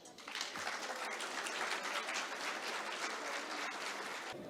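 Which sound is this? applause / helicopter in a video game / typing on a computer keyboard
applause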